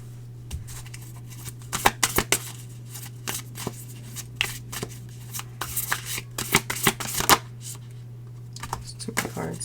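Tarot cards are shuffled in repeated quick bursts of riffling and slapping, close and crisp over a steady low hum, with brief pauses between bursts.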